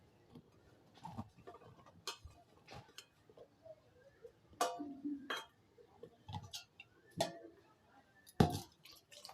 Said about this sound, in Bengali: এই যে এগুলো সুন্দর করে উষ্ণ গরম জল দিয়ে ধুয়ে নিতে হবে।